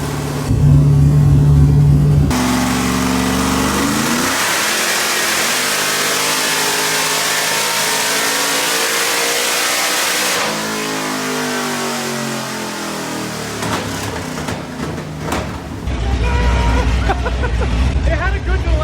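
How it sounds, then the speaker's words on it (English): A car strapped to a dyno revs hard, its engine note rising and sweeping up in long pulls, loud and close, then dropping back before another burst, with voices murmuring in the background. "It's been a while since this car's been on the dyno"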